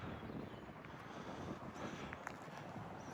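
Steady wind buffeting the microphone, a constant low rumbling roar with a few faint higher clicks and rattles in the background.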